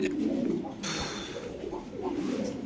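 Lahori and Lakka pigeons coo repeatedly in a close, soft, throaty rhythm, with a brief rustle of handling partway through.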